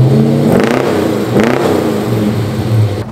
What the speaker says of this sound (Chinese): 便立即进入车内踩踏油门，来感受下这套全新的排气声浪